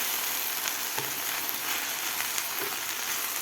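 Garlic and coarsely ground roasted peanut powder fry in a pan for a fenugreek-leaf dish, with a steady crackling sizzle broken by a few soft scraping stirs, close and without talk.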